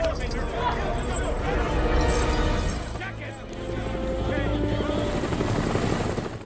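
A loud helicopter drones close by with a thick, pulsing rotor roar, while voices and other noise mix in underneath.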